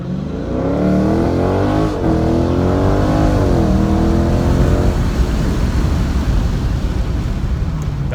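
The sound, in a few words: 2019 Dodge Scat Pack launching 0-60 in street mode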